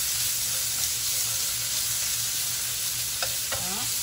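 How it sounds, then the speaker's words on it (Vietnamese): Meat sizzles loudly in a hot pan for banh xeo, a constant close crackle with the scrape of stirring and a couple of sharp clinks near the end, no voices. "Rồi bây giờ chảo đã nóng, em sẽ cho thịt vô trước."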